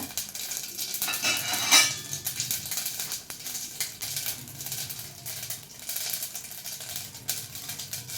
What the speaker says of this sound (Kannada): ನೋಡಿ, ಸಾಸಿವೆ ಪಟ್ಪಟ ಅಂತ ಇದೆ.